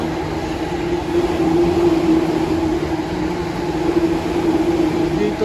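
A loud train rolls past on a snowy night in Tokyo: a steady, heavy rumble with a sustained droning hum that swells slightly in the middle and holds close throughout.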